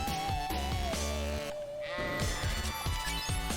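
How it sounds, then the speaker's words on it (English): Sheep bleat in the Final Fantasy 1 video game, one wavering drawn-out bleat over looping game music and a steady tone, moderately loud. "sheep there in the background now"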